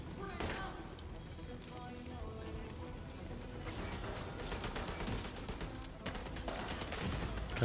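Gunfire from a firefight in The Division 2, with dense bursts of shots and thuds filling the whole stretch amid explosions and crashes, while a player talks over the action.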